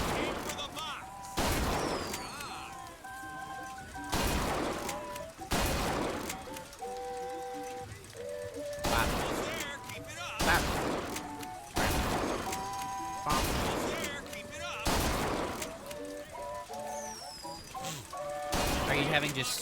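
A video game gun fires sharp, loud shots at irregular intervals, about a dozen in a row, over a steady background of game music and a talking voice.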